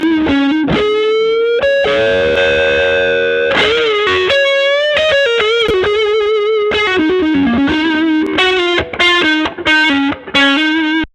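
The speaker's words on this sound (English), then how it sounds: "There's enough distortion on the guitar, and then I wanted to use the Gorilla Drive to add a little bit of grit" Heavily distorted electric guitar run through a Gorilla Drive plugin, playing a busy riff with sustained gritty chords and quick bends, loud and upfront throughout.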